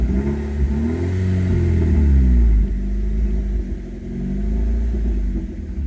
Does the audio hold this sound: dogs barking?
no